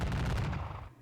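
Musket volley fire in a Gettysburg Civil War strategy game, a short dense burst of overlapping gunshots that fades within a second.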